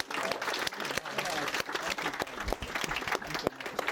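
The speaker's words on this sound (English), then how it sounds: "So another round of applause for them, please." Wedding guests applaud the bridesmaids, with dense, steady clapping from a crowd filling the room for several seconds and voices faintly underneath.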